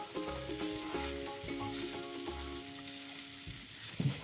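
A flattened Korean street-food omelette fries in a pan with a bright, continuous sizzle that stays even throughout, close up, while soft instrumental music plays in the background.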